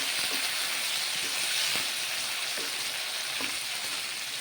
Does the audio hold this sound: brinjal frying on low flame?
yes